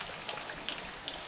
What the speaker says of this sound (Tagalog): gaulan-ulan gid diri guys lagi grabe ulan diri